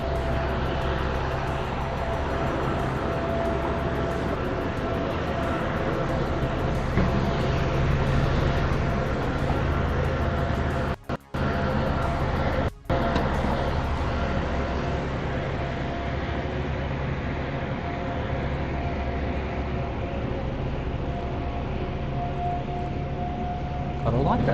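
A small truck passes on a city street in Newington, Sydney, its broad engine and road noise rumbling steadily for the whole stretch, loud and close with no clear rise or fall.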